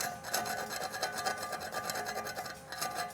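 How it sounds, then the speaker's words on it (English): A hand file scrapes slag from the joint of a half-inch 3G plate weld made with 7018 rod on a backing strip. The rubbing rasp strokes come in a quick repeated rhythm, close and fairly quiet, with no talking. "If you got a little couple of pockets in there, take your time with that file. You can scrape it,"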